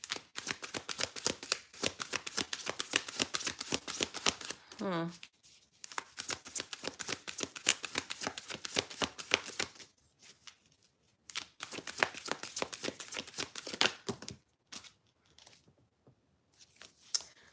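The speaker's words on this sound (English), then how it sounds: "Lauren, you get some cards pulled." Tarot cards are shuffled and pulled during a live reading, giving rapid, rhythmic riffling and flicking bursts that run in long trains with brief pauses, close and fairly loud, with no talk over them.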